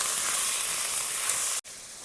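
Grated tomato, turmeric and spices sauté in a pan with a steady bright hiss and sizzle, close and constant, broken by a short cut near the end, no voices.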